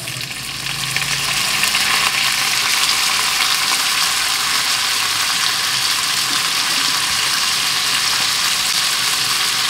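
Pork belly frying loudly in a hot pan with soy sauce added for humba, a dense, steady sizzle that holds for the whole stretch with no talking.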